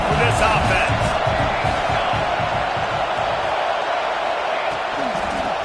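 Football stadium crowd roaring steadily throughout a Florida college game, a dense continuous wash of voices and shouts loud and close, with game commentary faintly mixed in.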